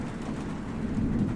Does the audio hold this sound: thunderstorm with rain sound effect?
yes